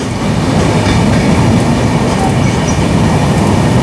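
The 12952 Mumbai Rajdhani train runs steadily on the rails, a loud continuous rumble and rattle with faint clickety-clack heard from inside a First AC coach.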